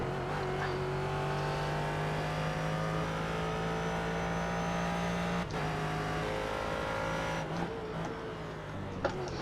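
A GT race car engine in the iRacing sim, running on cold tyres, drones steadily at high revs with rising and falling pitch through gear changes, loud and continuous with a brief dip mid-way.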